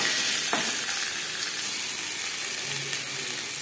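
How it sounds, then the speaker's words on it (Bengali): Boiled potatoes lightly frying in mustard oil, giving a dense, even hiss of sizzling that stays loud and close throughout with barely any change, no talking. "আলু আমি হালকা করে ভেজে নেব"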